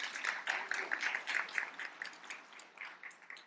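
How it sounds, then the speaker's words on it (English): An audience claps for an acknowledgment at a startup leadership demo day, a faint, distant patter of scattered handclaps that rises and falls unevenly for several seconds. "round of applause, please"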